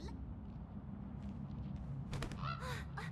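A game bird in Honkai Star Rail gives a few loud, close honking calls in a short burst near the end, over a low ambient background.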